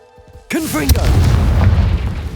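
A Confringo fire spell blasts in Hogwarts Legacy, a loud booming burst that rolls into a sustained rumbling roar right after a short spoken cry.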